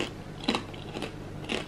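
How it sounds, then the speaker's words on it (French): Homemade crispy baked potato chips crunched in a few distinct bites, quiet and close, with no talk. "Ça croustille, je vous dis pas"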